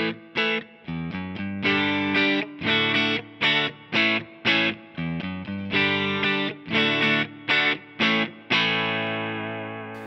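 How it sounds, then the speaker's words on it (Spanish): Distorted electric guitar played through the Line 6 HX Stomp's built-in cabinet emulator: loud, heavy chugging chords in a choppy rhythm of short stabs and sustained hits, ending on a ringing chord. "El primero va a ser el emulador de cabina que trae la H Stomp."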